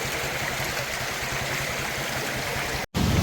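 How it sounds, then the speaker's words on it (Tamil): Rainwater rushes fast into the sea at an outflow near Jaffna after heavy rain, a continuous loud churning flow that cuts out briefly near the end. "தண்ணி போகிற போக்க பாருங்க"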